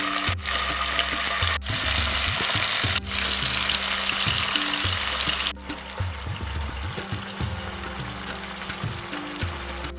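Chicken pieces for Kerala-style hariyali chicken laid into a pan with cardamom, cloves and cinnamon sizzle loudly and continuously, with a few abrupt bursts and a drop to a quieter hiss near the end.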